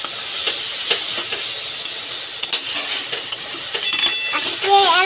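Shrimp and spice paste stir-fried together for a Bengali maan kochu chingri dish, giving a steady hiss of frying with a few close scrapes and knocks of a spatula on the pan.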